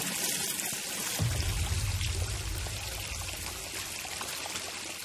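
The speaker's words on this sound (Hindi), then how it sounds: "पानी बंद कर।" Water pours steadily from a tap in a film scene, a dense rushing hiss joined by a deeper gush after about a second that runs on without talk.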